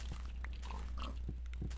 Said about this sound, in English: then we'll kill these pigs